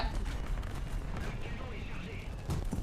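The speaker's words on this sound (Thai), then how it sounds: "นี่เสียงเหมือนระเบิด" Explosions and gunfire rumble through a War Thunder battle, dense and continuous, with sharper blasts around the middle and a heavier burst near the end over a thick low-end din.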